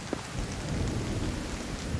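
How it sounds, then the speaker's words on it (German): Steady rain hisses with low rolling thunder beneath it in a stormy scene from the video game The Division 2, constant and fairly soft, with no voices. "Da regnet so schön rein hier."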